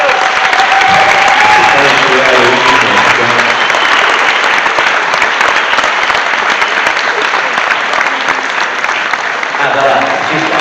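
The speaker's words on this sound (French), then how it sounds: "Je vous demanderai de l'applaudir très fort." An audience in a hall applauds loudly for an actress and singer seated among them, with dense, steady clapping that holds strong for about ten seconds; faint cheering or voices may sit beneath it.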